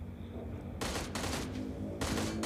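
UZI submachine gun fire in PUBG Mobile aimed at a vehicle's tires: a few short, rapid automatic bursts, close and loud, separated by brief pauses over a steady low background hum.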